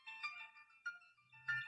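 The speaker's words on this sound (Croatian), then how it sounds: "kada me neko bude pozivao, tako će da mi zvoni" A song plays as a Telegram phone ringtone from an MP3 file, coming in short tonal musical bursts with brief gaps, fairly faint and with no talking.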